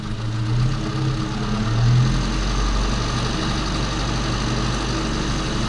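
An Austin Mini 998cc engine running during carburettor tuning: a loud, steady low rumble with a slight rise and fall in revs, close by and without talk.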